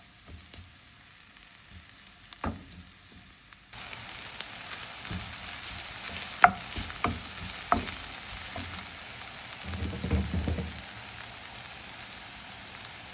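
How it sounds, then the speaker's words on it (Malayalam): Grated carrot, ginger, green chilli and curry leaves sauté in a pan for paniyaram, a quiet start giving way to a steady close sizzle broken by a few sharp stirring clicks and scrapes. "അപ്പോൾ അതിലേക്ക് ഗ്രേറ്റ് ചെയ്ത് വെച്ചിട്ടുള്ള ക്യാരറ്റ്, ഇഞ്ചി, പച്ചമുളക്, കറിവേപ്പിലൊക്കെ ഇട്ട് നന്നായിട്ടൊന്ന് വഴറ്റിയെടുക്കാം."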